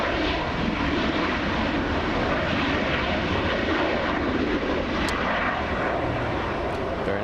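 A heavy aircraft at LAX produces a sustained, loud engine roar, a dense, even rumble that holds steady throughout without speech.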